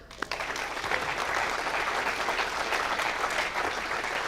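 Sustained applause from an audience at a Vega rocket launch event, loud and steady throughout, a dense wash of clapping right from the first moment.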